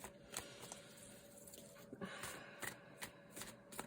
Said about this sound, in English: let me just shuffle it and see if something wants to come in to conclude your reading